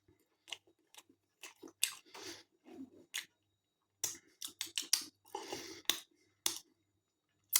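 Chewing a bite of Lidl Deluxe balsamic onion and mature cheddar quiche, close and quiet, with irregular soft crunching bursts separated by short pauses and no talking.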